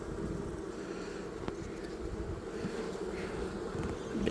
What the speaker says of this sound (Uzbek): ari ko'p